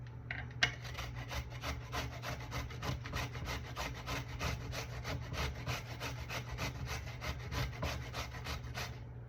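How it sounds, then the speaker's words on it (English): Food being grated by hand on a grater, a fast, even rhythm of rasping strokes that goes on for several seconds over a low steady hum, quiet and close, with no talking. "I'm gonna go ahead and just grate this right now."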